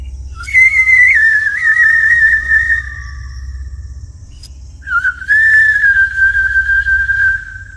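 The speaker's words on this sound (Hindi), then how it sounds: "सीटी की आवाज कैबिन के विंडो के बिल्कुल पास से आ रही थी" An eerie, drawn-out whistle sounds close to a cabin window in the woods, two long wavering tones separated by a short pause, loud and clear over a low hum.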